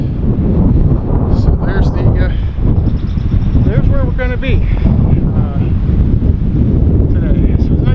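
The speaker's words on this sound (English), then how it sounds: "Nice windy day." Strong, steady wind roars and buffets the microphone outdoors in a park, a continuous close rumble that persists throughout while someone talks over it.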